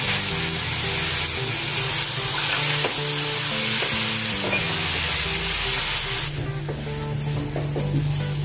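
Finely chopped capsicum and tomato puree sizzle and hiss steadily in a pan, with utensil clinks and stirring scrapes over the frying, heard close with no talking.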